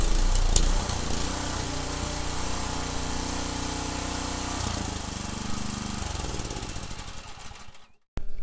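Cub Cadet RT65 rear tine tiller with a 208cc cast iron sleeved engine runs steadily close by, a loud continuous mechanical drone with a slight dip near the end before cutting briefly.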